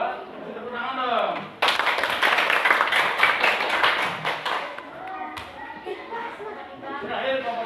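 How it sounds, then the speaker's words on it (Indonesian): A school class of children claps for a group that has just finished presenting, a burst of quick, close hand claps lasting several seconds, with a teacher's voice before and after. "Tepuk tangan dong."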